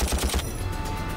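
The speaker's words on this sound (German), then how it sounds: "gibt dieser Robocop nach der üblichen Warnung selbstständig gezielte Schüsse ab" A rapid burst of about four gunshots from a robot cracks out in quick succession, then fades into a quieter background rumble.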